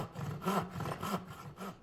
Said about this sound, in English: Here's 15 strokes with a crosscut.